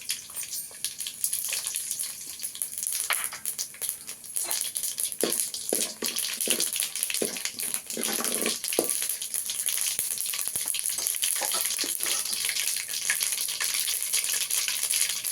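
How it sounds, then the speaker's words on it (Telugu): Steady crackling sizzle of tempering seeds, including mustard seeds, dropped into hot oil, continuous throughout, with occasional pops and stirring clatter. "తాలింపు గింజలు వేసేస్తున్నా"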